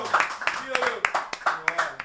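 An audience claps roughly in time with cumbia music on a live stream program, sharp handclaps repeating every half second or so over singing and talk.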